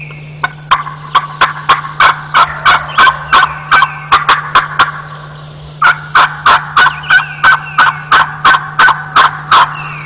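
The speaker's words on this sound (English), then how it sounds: "This is a 2-year-old gobbler hanging with jakes, not really working well, and then we also hear some hens" A two-year-old wild turkey gobbler in a New England spring woodland, gobbling repeatedly in loud, close bursts, with rapid rhythmic gobbles followed by short pauses over a constant low hum.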